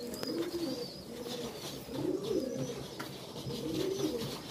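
Super Teddy pigeons, a male and female pair, coo in soft, throaty, repeated phrases that roll in steady waves, close by with no talking.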